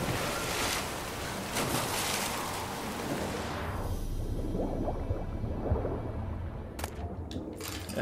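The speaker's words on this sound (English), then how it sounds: "That's water." Water and waves from The Witcher 3 game, a steady close wash of surf and rushing water that fades into softer lapping, with a few brief ticks toward the end.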